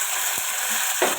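Chopped small onions, tomato and green chili frying in oil in a pan after mustard seeds have popped, giving a steady loud sizzle with a brief stir and a sudden flare of crackle near the end.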